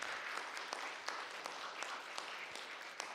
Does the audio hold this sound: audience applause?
yes